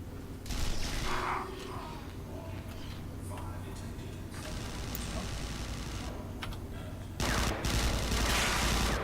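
Automatic gunfire in the sci-fi shooter Interstellar Marines, dense bursts of rapid shots starting early, easing into steadier mechanical ticking, then a loud fresh burst near the end, with a voice talking over parts.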